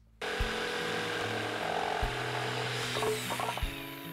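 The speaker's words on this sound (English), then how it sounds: "secure the piece in a vise and use a jigsaw to cut it out" Jigsaw cutting a southern pine bench piece clamped in a vise, a steady buzzing, rattling cut that runs nearly the whole time with small pitch shifts and a few bumps, close and fairly loud, with no talk.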